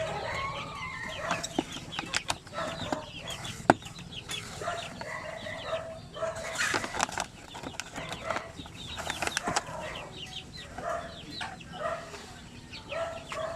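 Shamu Asil and Basilan chickens cluck and call from inside a cage, a busy overlapping stream of clucks at close to moderate range with a few louder squawks.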